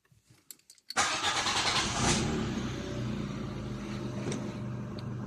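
A Peugeot car engine showing fault code P1327 cranks and catches, then settles into a steady idle with a brief rev, loud and close, with no talk.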